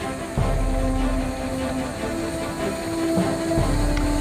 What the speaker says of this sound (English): Absolutely beautiful road locomotive. Fowler design.